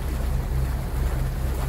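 Luxury yacht under way on the sea off Haeundae, Busan: a steady, loud low rumble of engine and water rush with wind noise, continuous and close, with no talk.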